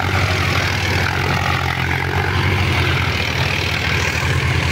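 A Sonalika 745 tractor engine runs steadily close by, a loud low diesel throb with a constant rumble and no pauses.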